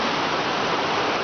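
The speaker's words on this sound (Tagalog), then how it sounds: "Yan yung ilog." A flowing river at a riverside camping spot, a dense steady rush of water close by, with no voices.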